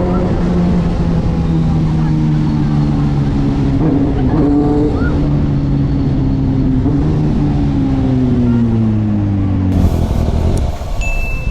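A big bike motorcycle engine runs loud and close, its tone rising and falling as the rider revs and shifts, with faint voices underneath.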